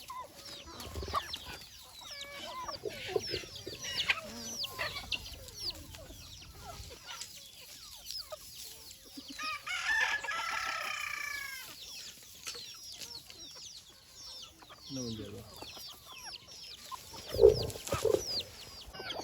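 A black rooster suffering from coryza clucks repeatedly at close range, then lets out a couple of louder crowing bursts, with quieter farmyard fowl sounds between.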